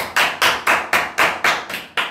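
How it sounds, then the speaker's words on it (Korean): Two people clap their hands loudly in eight sharp, evenly spaced claps, each a crisp close slap with a short ring-off, with no talking over them. "우리 박수 소리 진짜 크다"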